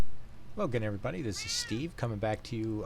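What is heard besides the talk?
cat meowing in the background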